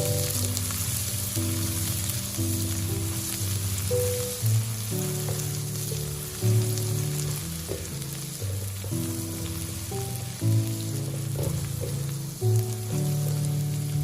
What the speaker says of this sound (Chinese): 油热之后，把葱姜蒜倒下去炒出香味